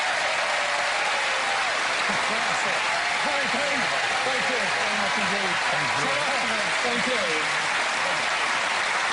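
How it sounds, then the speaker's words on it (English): Studio audience applause at a magic show, a dense broad wash of clapping lasting throughout, with a voice talking over it and the crowd noise staying steady. "A nice round of applause."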